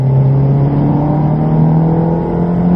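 Ferrari racing car on the Silverstone circuit, engine pulling hard under acceleration with a steady rising drone, loud and close throughout, no talk.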